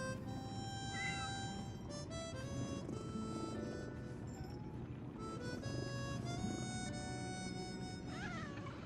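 Cat meowing in the Lies of P video game, several short meows heard over steady game music and ambience.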